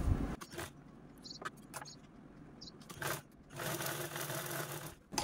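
A sewing machine stitches a double zipper pouch made from a reused blouse piece, running in close, buzzing bursts separated by short pauses, with no talking.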